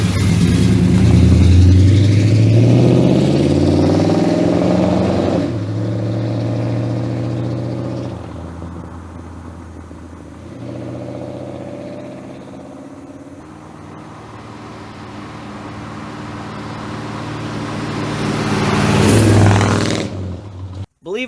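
A 1965 Chevrolet Chevelle on a road test drive: its engine revs up through rising pitch sweeps, drops as gears change, settles into a steady drone, then surges loudly again near the end.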